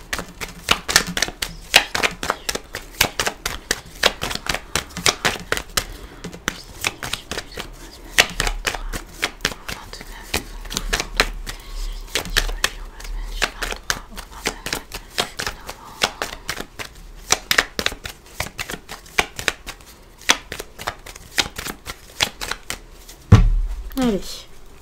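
Petit Lenormand oracle cards shuffled for a five-card reading, a long close run of rapid crisp card snaps and riffles with brief pauses and a soft thump near the end.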